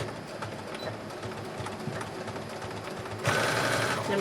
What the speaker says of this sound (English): Now our final step on our dress is to straight stitch right along this inner fold all the way around our dress